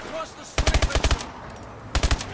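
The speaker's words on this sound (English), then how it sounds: "Hold on, let me shoot these guys first." Gunfire in the shooter game Call of Duty: Advanced Warfare: two sharp automatic bursts, the first about seven rapid rounds, the second a shorter run of four or five, loud over faint background game noise.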